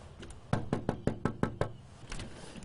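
About eight sharp knocks on a door during a community health worker's home visit, spaced evenly with a brief pair before them and softer taps after, over a low background hum.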